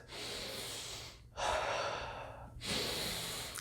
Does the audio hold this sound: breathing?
yes